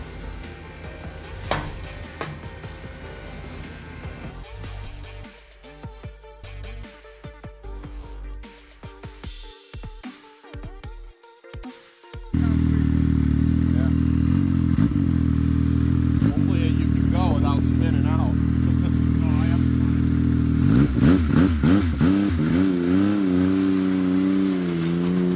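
A Yamaha Sidewinder snowmobile engine fitted with a One Stop Performance aftermarket muffler can. After choppy, uneven noise, it roars into a loud, steady drone midway and then revs up near the end.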